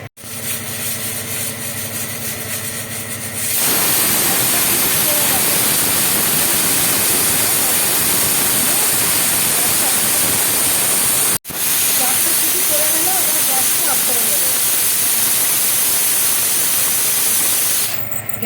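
Pressure cooker on a gas stove cooking chicken giblets, a loud continuous steam hiss like broadband white noise that holds steady for long stretches and is broken once by a brief cut.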